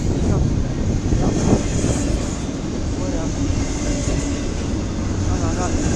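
A long CSX westbound freight train rolls past in Fostoria, Ohio, its steady rumble and rail clatter loud and continuous throughout, with people talking briefly over it.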